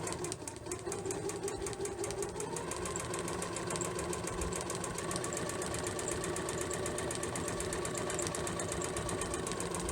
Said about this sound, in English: So now I can sew all the way down here, and we're going to do that all the way around.